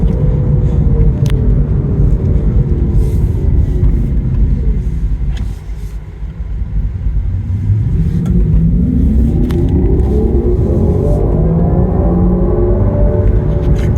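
A Kia EV6 electric car driving on the road: a steady low rumble of tyres and road, with a tonal electric-motor whine that slides down, dips briefly quieter, then climbs again as the car speeds up.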